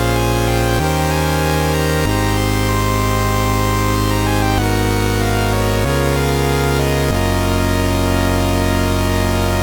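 A loud, continuous buzzy synthesized sawtooth wave built from its first 256 harmonics, bright and harsh with rich overtones, stepping between a few different pitches.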